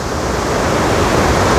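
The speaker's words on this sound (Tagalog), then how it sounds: "Malakas pa rin ang tubig. Rumaragas" Rushing floodwater at Wawa Dam after Typhoon Ulysses, a steady, loud broadband roar of churning water with no break and no voices.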